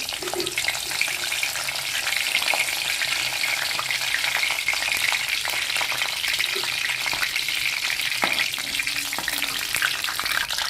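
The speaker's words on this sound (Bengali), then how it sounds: "মশলাগুলো ভেজে একটা ঘ্রাণ হবে" Steady, crackling sizzle of spices frying in hot oil in a wok for a chicken and turnip curry, continuous and close, with faint scraping stirs now and then.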